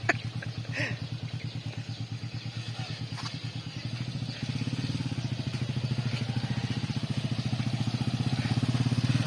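A large motorcycle engine idles with a steady close putter, then picks up into a faster, louder rhythmic chug as it rides off, with faint background noise.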